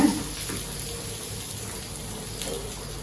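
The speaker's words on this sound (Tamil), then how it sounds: "நல்லா ஒரு 3/4 கப் அளவுக்கு நான் தண்ணி ஊற்றிருக்கேன்" Water poured into thick tomato chutney in a pan over low heat, a steady close gushing flow like a tap filling, continuous with no talk.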